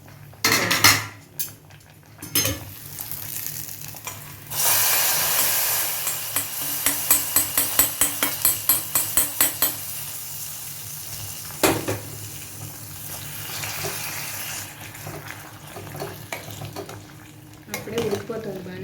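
Tamarind stew bubbling in a cooking pot, a steady simmering hiss with repeated metallic stirring and scraping clinks from a spoon against the pot, near and moderately loud, no talk.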